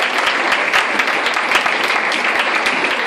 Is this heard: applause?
yes